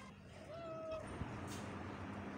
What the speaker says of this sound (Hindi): जख्मी हुई भी है ये बिल्ली,